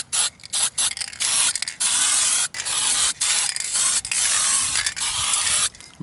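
Aerosol spray paint hisses onto car wheel guards in repeated short bursts and longer blasts, loud and close, with brief silent gaps between sprays.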